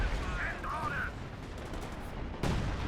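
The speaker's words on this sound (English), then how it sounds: "Artillery's just hitting that rifleman squad" Artillery fire in Company of Heroes 2, with shells landing on a rifleman squad during a 4v4 match on Essen Steelworks, heard as rumbling blasts under dense battle noise, ending in a sharp loud impact near the close.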